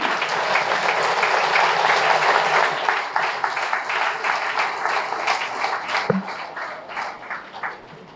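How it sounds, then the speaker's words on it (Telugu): Applause for the masters at a vegetarian rally in Tiruchanur, Tirupati: a dense, loud crowd clapping that holds steady, then thins into looser scattered claps. "మాస్టర్స్ అందరికీ గట్టిగా క్లాప్స్."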